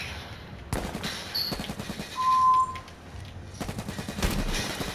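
Gunfire in the battle royale video game H1Z1: Battle Royale, with bursts of rapid automatic shots and scattered single cracks through the whole stretch, fairly loud and close, plus a brief tonal game beep in the middle.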